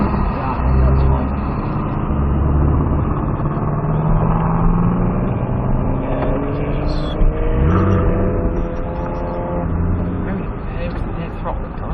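A car pulling away in throttle-sensitive first gear on a car-chase driving experience, its engine droning and climbing in pitch as it accelerates, heard as a steady, loud rumble from inside the cabin.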